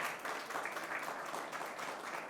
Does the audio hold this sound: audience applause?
yes